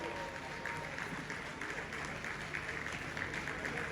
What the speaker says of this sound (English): Can we keep the applause going, ladies and gentlemen?